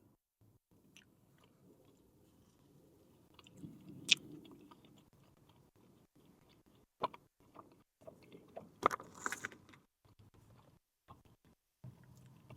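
Quiet, close chewing of an Italian donut dipped in chocolate sauce at an Olive Garden, soft moist crunching and smacking in irregular bursts with short pauses between.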